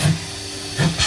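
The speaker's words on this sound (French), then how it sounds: "Ça, c'est le bruit de locomotive que font ces vieux poumons." Two short, breathy wheezes from old lungs hiss out close by, rasping like the puff of a steam locomotive, with a quiet pause between them.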